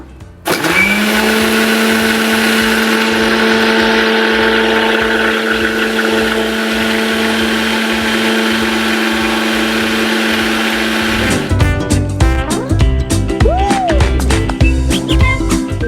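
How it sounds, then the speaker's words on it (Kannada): A mixer grinder blends amla with water in a loud, steady whir that runs continuously, then shifts to a rougher, rattling grind near the end. "ಅರ್ಧದಿಂದ ಮುಕ್ಕಾಲು ಗ್ಲಾಸ್ ನೀರು ಹಾಕಿ ಮತ್ತೆ ಮಿಕ್ಸಿ ಮಾಡೋಣ"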